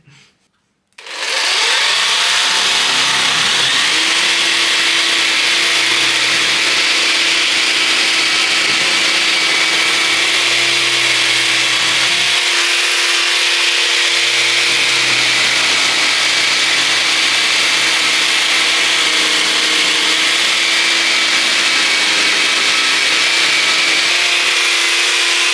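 A Parkside Performance 20V cordless jigsaw cuts through wood, starting abruptly and then running as a loud, steady whirring buzz close by, with slight shifts in pitch as the blade works through the material.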